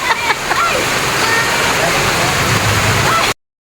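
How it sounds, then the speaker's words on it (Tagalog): Heavy rain pours down in a dense, steady roar of splashing water at an afternoon family birthday gathering in Catanauan, with people talking over it. "biglang hapon lumakas ang ulan habang tayo ay magse-celebrate ng birthday"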